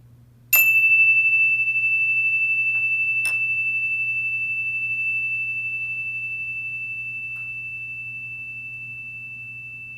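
A single meditation chime is struck once and rings out alone, a clear bright tone that sustains and slowly fades over several seconds above a steady low hum.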